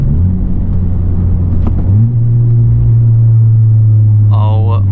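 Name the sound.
2021 Civic Type R MAPerformance exhaust downshifts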